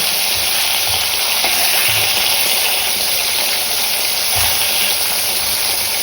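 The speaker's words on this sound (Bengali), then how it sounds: "মাছের তেল ভাজা করব" Tilapia fish frying in hot oil, a loud, continuous, close sizzle that crackles evenly for several seconds with a few low thuds beneath it.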